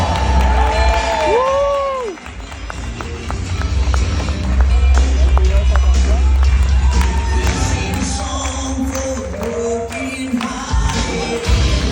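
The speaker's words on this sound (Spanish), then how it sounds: "Un fuerte aplauso." A large audience at a motivational event applauds and cheers as the main platinum speaker walks on stage, a dense, loud crowd roar with shouts and whistles that holds steady throughout.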